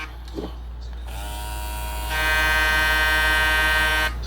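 Gamma+ Cyborg hair clipper hums quietly, then switches to a louder, steady high buzzing motor whine that runs for a couple of seconds before cutting off, close up with no talking.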